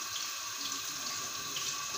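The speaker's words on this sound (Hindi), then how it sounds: "बर्तन में हमने पानी लिया" Tap water runs steadily into a cooking pot for boiling carrots in a home kitchen, a continuous close hiss with no break across the short stretch.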